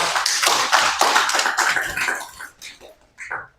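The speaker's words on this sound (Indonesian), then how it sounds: "Oke, tepuk tangan untuk kawan kita." A class claps for classmates after a group presentation in a religious history lesson, a burst of sharp hand claps that thins out into a few scattered claps and quieter sounds.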